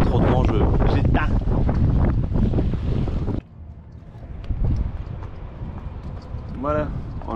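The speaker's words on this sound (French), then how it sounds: "il y a trop de vent" Strong wind buffets the microphone on a sailboat in loud rumbling gusts, then cuts to quieter wind and water sounds with a voice speaking briefly.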